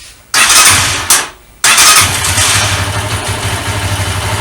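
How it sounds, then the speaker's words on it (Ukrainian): A Spark SP200R motorcycle, just repaired for a fuel leak from its drain hose, is started with a couple of brief loud cranking bursts before the engine catches and settles into a steady, close, rhythmic idle. "Покажу вам теж, що я його не поламав, він заводиться."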